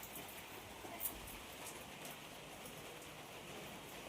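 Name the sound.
rain falling outside on a rainy morning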